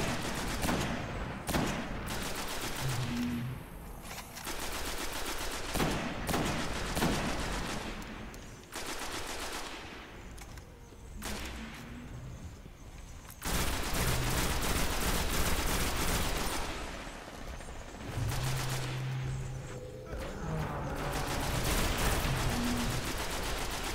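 Sustained bursts of automatic gunfire from shooting an enemy in the video game Destiny, loud and dense with rapid repeated volleys and brief pauses, continuing throughout with no talking.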